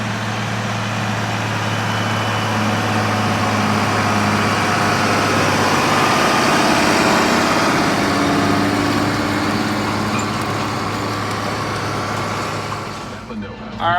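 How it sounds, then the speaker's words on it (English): A tractor engine runs steadily at close range, a loud continuous low drone that holds throughout and eases slightly near the end. "I'm gonna go catch a ride on that tractor."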